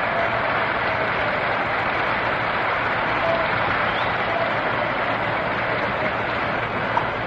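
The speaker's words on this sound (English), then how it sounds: "Round of applause for Johnny Podres as he comes on" A 1955 World Series Game 7 ballpark crowd at Yankee Stadium applauds Dodgers pitcher Johnny Podres, a steady, muffled roar of clapping on an old broadcast recording, even and continuous without any commentary.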